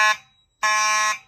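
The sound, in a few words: fire alarm sounding during school fire alarm system test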